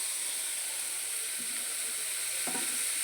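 Cumin seeds sizzle in hot oil with a constant, close, bright hiss that holds evenly from start to finish, with a couple of soft stirring touches near the end.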